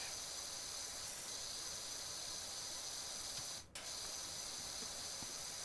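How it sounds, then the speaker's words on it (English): A pressure washer in the video game PowerWash Simulator sprays with a steady, soft hiss that carries on throughout and breaks briefly once near the end. "I've never done power washing in real life, but boy, this game makes me want to try it out so bad."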